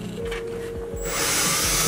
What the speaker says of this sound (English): I've just made my first hole, and I'm gonna drill 3 more